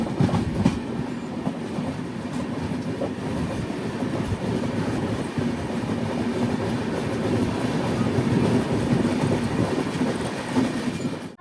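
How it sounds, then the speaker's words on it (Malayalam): Vivek Superfast Express, the Dibrugarh to Kanniyakumari train, rolling into Coimbatore railway station, a loud steady rumble with wheel clatter and rattling carriages heard from on board, continuous with no talk. "ട്രെയിൻ ഇപ്പോൾ കോയമ്പത്തൂർ റെയിൽവേ സ്റ്റേഷനിലേക്ക് എത്തിയിരിക്കുകയാണ്."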